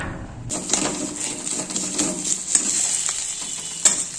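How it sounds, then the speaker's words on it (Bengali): Ridge gourd peel dry-roasting in a wok with no oil, giving a steady close hiss and light crackle. Scattered small clicks and scrapes come through, with no voices. "শুধু কড়াইয়ের মধ্যে দিয়ে, আমি তেল দেব না"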